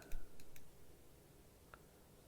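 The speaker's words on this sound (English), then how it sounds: "Point and click." Computer mouse clicks during zoom-and-pan editing work: a couple of soft, quick clicks near the start, then a single faint click later, heard alone in a quiet room.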